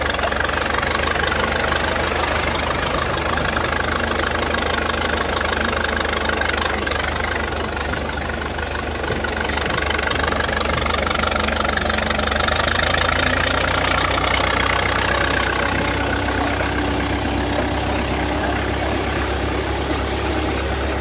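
An old engine of a 1913 Buick antique race car idles and chugs steadily nearby, a continuous rumbling knock with slight shifts in pitch and no voices.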